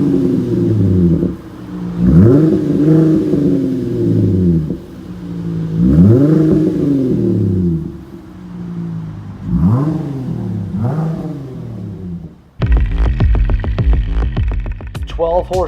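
A 2018 Jeep Grand Cherokee Trailhawk V6 with a Street Demon true dual cat-back exhaust and aFe intake revs in several rising, falling blips, with loud, close exhaust rumble. A different rapid clattering drone takes over near the end.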